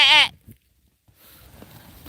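A goat on a farm, out among the animals eating pumpkins, lets out one loud, wavering bleat up close. Quiet follows, with faint rustling and soft sounds in the background.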